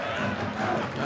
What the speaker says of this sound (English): Supporters making all the noise at the moment.